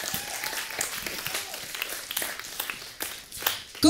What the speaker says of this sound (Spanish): un aplauso para Coco Celis